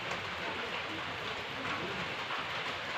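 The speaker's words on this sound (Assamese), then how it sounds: "এয়া চাক বতাহ বৰষুণ" Steady wind-driven rain on a cold early morning at a rural Assamese home, a dense continuous hiss and rush with low rumbling gusts underneath, constant and fairly loud throughout with no voices.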